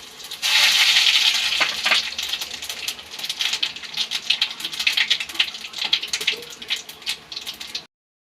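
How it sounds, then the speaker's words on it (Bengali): Whole cumin and whole garam masala spices hit hot oil in a kadai, setting off a sharp burst of sizzling. Lively crackling and spitting pops follow close up, then stop suddenly. "এখন দিয়ে দেব গোটা জিরে আর গোটা গরম মশলা একসাথে।"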